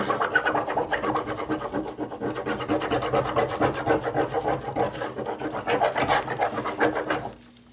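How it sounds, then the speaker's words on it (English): Fingers rub steadily over wet paper to peel it off an acrylic image transfer, giving a continuous close rasping scrub that runs for several seconds and stops abruptly. "And then just rub a whole bunch and see how far it goes."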